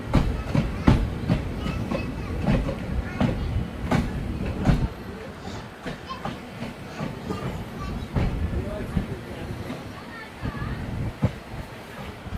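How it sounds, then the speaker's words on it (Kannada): Train rolling into Rayadurga Junction railway station toward platform one, with rhythmic wheel clatter and rumble at steady moderate loudness, easing somewhat after the first few seconds, with faint voices in the background. "ನಮ್ಮ ಟ್ರೈನ್ ಈಗ ರಾಯದುರ್ಗ ಜಂಕ್ಷನ್ ರೈಲ್ವೆ ಸ್ಟೇಷನ್ಗೆ ಎಂಟ್ರಿ ಆಗ್ತಿದೆ"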